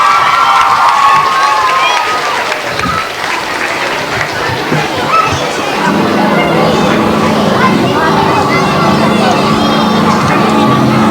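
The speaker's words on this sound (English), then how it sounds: "a big round of applause for the boys in first and second class." An audience at a children's Christmas concert bursts into loud applause and cheering for young schoolboys, with sustained clapping, shouts and children's voices that stay dense and energetic the whole way through.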